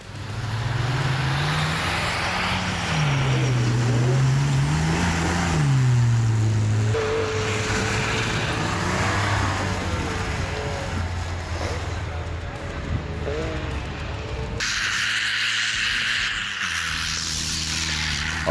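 Off-road rally vehicles at a Trophy-Sprint event driven hard and drifting, engines revving and surging loudly with rising and falling pitch, tyres and gravel noise throughout, close by and continuous.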